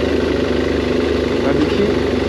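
A 2009 BMW F800S motorcycle running at a steady idle, its low engine rumble loud and close and continuous throughout.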